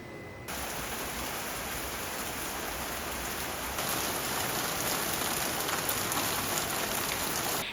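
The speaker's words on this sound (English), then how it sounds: "it has just started to rain" A sudden rain shower comes on as dense, even hiss of drops on surfaces, steady and broadband, thickening slightly partway through, with no voices.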